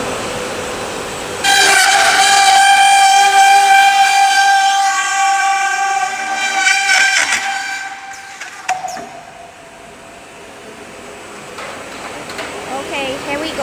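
A chain-driven PU foam rolling shutter slat production line, built on a beam structure with rolling stations, runs with loud metallic whining and squealing tones that fade and shift, with a person talking over it.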